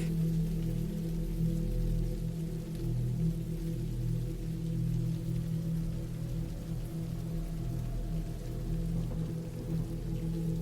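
Steady rain falling outside a cabin in the woods at night, a continuous, fairly loud wash of drops with no voices and no breaks.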